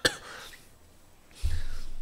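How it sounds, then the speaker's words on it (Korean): A man coughs sharply and briefly at the start, then coughs again in a rougher, lower burst near the end. Faint room noise fills the gap between the coughs. "아이고 저 기침 때문에 미치겠네."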